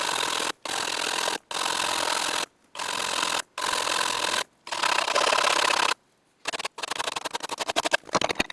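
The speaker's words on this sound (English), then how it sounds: "so we need to file a flat spot over here." A hand file rasps in repeated strokes across a metal part of a Meier & Weichelt mobile workbench being restored, each stroke a gritty scrape separated by short silent gaps, with a faster, lighter run of strokes at the end.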